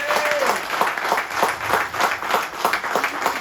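Applause from an audience at a political list presentation in Saint-Louis, steady rapid clapping throughout, moderately loud with a faint background tone.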